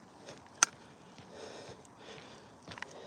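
Quick, soft sniffing from a dog close by, a few short snuffling breaths with a sharp click near the start and faint rustling around it.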